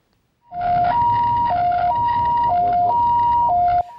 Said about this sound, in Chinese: 救护车到车祸现场